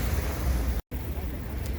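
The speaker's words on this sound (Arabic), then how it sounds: "يلا نقفل الفيديو الحلو ده بصوت البحر" Sea waves wash against the shore in Alexandria, a loud, steady rushing surf with wind buffeting the microphone and a brief dropout midway.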